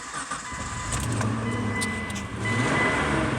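A Mitsubishi Montero engine cranks and starts up with a slight exhaust leak, the motor catching and settling into a steady idle close by, with no one talking.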